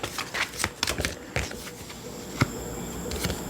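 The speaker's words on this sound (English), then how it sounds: "If not, we'll stop shuffling." Oracle cards are shuffled by hand in quick irregular riffles and snaps, close and crisp, with small pauses between bursts.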